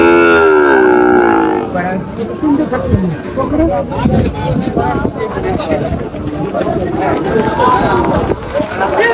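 A Sahiwal bull calf at a rainy Faridpur cattle market lets out one long, loud moo close by, which gives way to steady crowd chatter and talking for the rest of the stretch.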